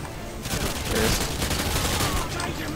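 Dense, continuous rapid-fire gunfire from ACR assault rifles in Call of Duty: Modern Warfare 2 Spec Ops, loud and sustained with overlapping bursts throughout.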